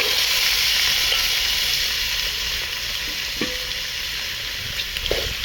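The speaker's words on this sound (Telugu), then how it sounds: "చిక్కుడుకాయలు ఆలుగడ్డలు తరిగి పెట్టాం కదండి ఇవైతే ఇందులో వేసేస్తాం" Chopped broad beans and potatoes dropped into a hot oiled pan, setting off a loud, dense sizzle that hisses steadily throughout with occasional faint clicks, close up and with no talking.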